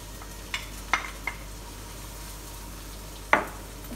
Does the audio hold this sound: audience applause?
no